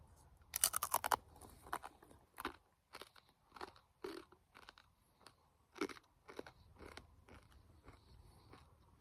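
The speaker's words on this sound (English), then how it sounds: "But that was some very loud crunches." Hard homemade crispbread of flour, water and salt, made in a WW2 trench, crunches loudly between the teeth in a fast opening burst, then in slower, separate crunchy bites close to the mic.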